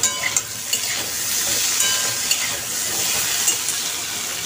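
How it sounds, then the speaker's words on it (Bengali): Potatoes frying in a pan, with a steady bright sizzle and crackle and occasional stirring scrapes, close and continuous without speech. "আলুগুলোকে ভালো করে ভেজে নেব লাল লাল করে"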